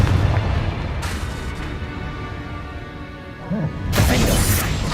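Confringo blasting-spell explosions in Hogwarts Legacy, a couple of sharp bursting booms amid rumbling combat noise, the louder blast near the end, with a player's voice calling out spells.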